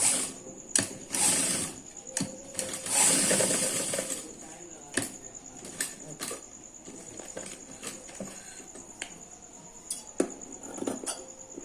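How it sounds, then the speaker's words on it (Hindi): A sewing machine stitching a seam with a margin on cloth for a kurti jacket, heard in short bursts of whirring and mechanical clatter separated by pauses, close by. "यहाँ से थोड़ा सा मार्जिन छोड़ते हुए यहाँ से हम सिलाई लगा लेंगे"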